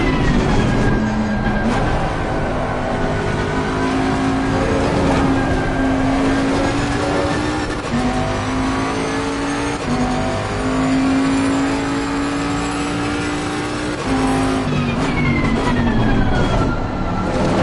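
Bentley race car in FIA Motorsports Games, a loud, steady engine note that climbs through the gears with brief dips at shifts and keeps droning throughout, with no talking.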